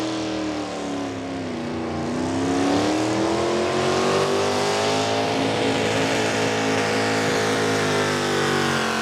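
A Chevy-powered pulling tractor, a former USA East champion, roars down a pulling track at a Lisbon, Ohio event, its engine howling loud and sustained with rising and falling pitch and no voices over it.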